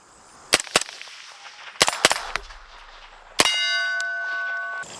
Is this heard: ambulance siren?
no